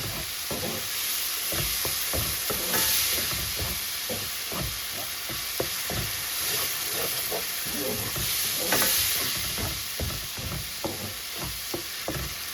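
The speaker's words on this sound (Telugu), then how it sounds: "వేగుతూ ఉంటుంది కలుపుతూనే ఉండాలి మంచిగా వాసన పోయే వరకు" Mashed bananas sizzle and fry in ghee for halwa as a spoon stirs the pan steadily, scraping and clacking in quick repeated strokes over a constant hiss.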